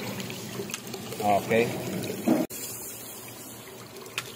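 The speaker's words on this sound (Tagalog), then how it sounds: "Gumagana yung pump. Nagpa-pumping siya." Dosatron pump on a poultry farm pumping water: soft trickling and gurgling with a few bubbly bursts, then a sharp click, under brief talk.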